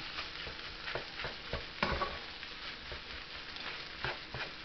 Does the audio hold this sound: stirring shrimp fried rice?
yes